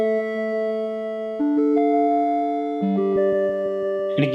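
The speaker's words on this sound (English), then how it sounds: "If we increase the feedback, you'll hear that it becomes much more of a delay." Korg Minilogue synth lead with its delay feedback turned up, playing sustained harmonic notes that step between pitches, each change trailed by repeating echoes, ending in a brief noisy burst; steady and close, with no voices.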